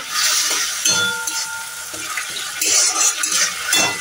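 Dried red chillies, black cumin and mustard paste fry in hot oil with a bright, hissing sizzle and spitting crackles. Occasional clinks of a utensil against the pan are mixed in, and the frying swells louder in a few bursts.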